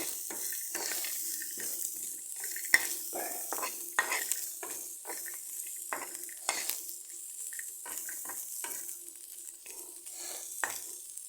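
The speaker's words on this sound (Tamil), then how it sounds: "அதோடு சேர்த்து வேர்க்கடலையும் போட்டுக்கலாம். போட்டு ரெண்டையும் நல்லா மிக்ஸ் பண்ணி வறுத்து எடுத்துக்கலாம்" Peanuts being stirred and dry-roasted in a pan for coriander leaf chutney, a steady scraping and rattling stir with faint sizzle, repeated spoon strokes in a close, continuous rhythm, with no talking.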